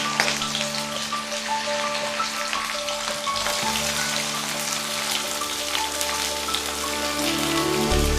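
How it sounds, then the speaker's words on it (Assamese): Finely chopped onions dropped into hot oil with a bay leaf, sizzling and crackling loudly and continuously at close range, like steady rain on a surface, with no talking. "তেল গৰম হৈছে আমাৰ। তেজপাত দিছোঁ মই। এতিয়া মিহিকৈ কুটি থোৱা পিঁয়াজখিনি দিম।"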